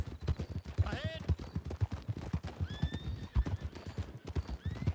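Horse hooves clip-clop in a steady rhythm with a high whinny in Red Dead Redemption 2, riding along in a western role-play game, with faint speech-like sounds underneath.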